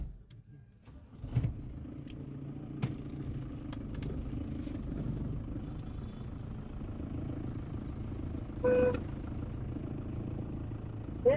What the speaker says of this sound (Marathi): आता आम्ही बसलोय ट्रॅक्स मध्ये कार मध्ये